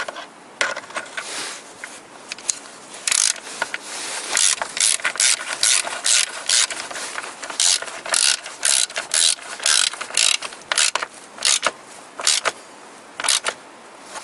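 A socket ratchet wrench turns on a Toyota Corolla VVT-i engine, giving close, loud runs of rapid clicking in short repeated bursts with brief gaps between them. There is no talking.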